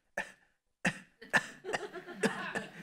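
A person deliberately forcing out coughs, imitating a put-on cough rather than an involuntary one; several short, loud bursts close by, separated by brief pauses, with the last ones running together into a rougher, sustained rasp.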